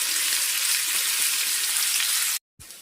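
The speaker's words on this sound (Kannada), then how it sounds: "ಒಂದು ಕಡೆ ಬೆಂದಾದಮೇಲೆ, ಫ್ರೈ ಆದಮೇಲೆ ಮತ್ತೆ ಇನ್ನೊಂದು ಕಡೆ ಫ್ರೈ ಮಾಡ್ಕೋಬೇಕು." Fish fries in a pan with a loud, continuous crackling sizzle heard up close, steady throughout and then cut off abruptly near the end, with no voices.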